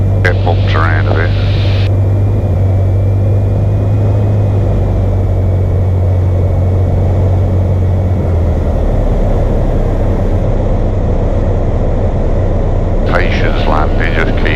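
A light aircraft coming in to land, heard from inside as a loud steady propeller engine drone with a low hum, while people talk briefly at the start and end.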